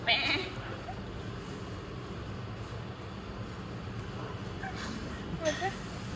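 A goat gives short bleats, one at the start and a couple more near the end, over a low steady background hum. The bleats are brief and moderately loud, with a voice faintly present.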